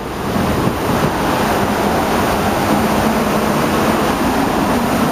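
Steady wind roars by the ocean with crashing surf beneath it, a continuous loud outdoor rush with microphone buffeting and no voices.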